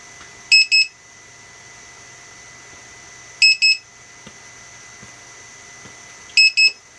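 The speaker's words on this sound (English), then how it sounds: "it beeps continuously until you move the throttle again" A Target Hobby lost-signal alarm sounding three short bursts of rapid high electronic beeps, each burst a double chirp, repeating about every three seconds, loud and close over a quiet hum.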